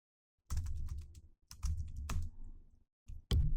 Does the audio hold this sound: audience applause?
no